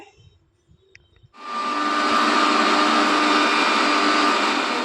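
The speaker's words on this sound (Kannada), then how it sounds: "ಮಿಕ್ಸಿ ಜಾರ್ ಫುಲ್ ಡ್ರೈ ಆಗಿರಬೇಕು ಸೊ ಇದನ್ನು ನುಣ್ಣು ಪುಡಿನ ಮಾಡ್ಕೊಬರ್ತೀನಿ ಫಸ್ಟು" A mixer grinder jar powders curry leaves for chutney powder, starting after a quiet pause with a loud, steady whirring roar that runs unbroken to the end, with no talk.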